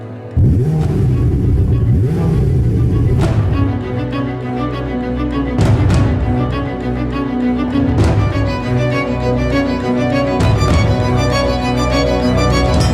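A loud, sustained Ferrari 488 Pista engine roar with rising and falling revs, punctuated by sharp bursts, continuing steadily throughout.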